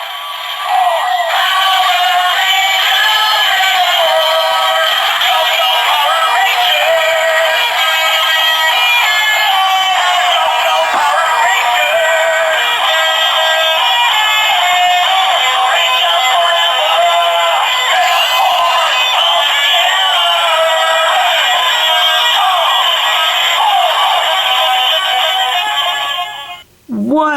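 Bright electronic tones, jingles and voice effects pour continuously from a Power Rangers Super Megaforce Legendary Morpher toy, loud and close for nearly half a minute before cutting off abruptly at the end.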